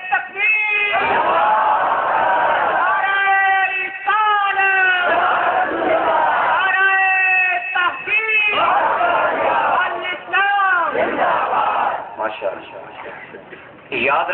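A large crowd chants a loud, massed response to the takbir slogan, rising in repeated sustained bursts of many voices in unison with brief pauses between, close and forceful.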